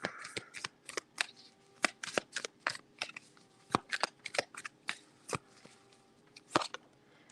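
Playing cards are shuffled and riffled in a run of sharp, crisp flutters and snaps with an irregular rhythm, close up and fairly loud, with no one talking.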